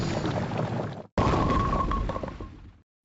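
Old Bowler card sound effects from Clash Royale: two heavy, rumbling bursts of noisy impact, like a boulder rolling and crashing, loud and close, the second with a brief tonal ring, separated by a short silence.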